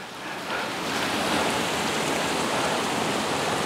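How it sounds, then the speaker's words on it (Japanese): A waterfall in the Osugidani gorge along the Miyagawa river, heard as a steady, loud broadband rush of falling water that swells slightly after the first half-second and holds constant with no voices. "滝や。 滝や。 滝またぐんや。"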